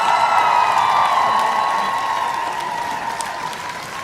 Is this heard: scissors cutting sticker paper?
no